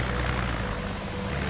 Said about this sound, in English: avoid the helicopter and get as far away from your base area as you can